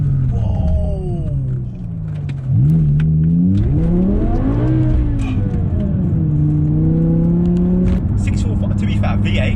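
Loud in-cabin sound of a stage 2 tuned BMW M6 V10 revving hard and accelerating, its engine note climbing and falling through several sweeps toward the redline, with occupants talking and exclaiming over it.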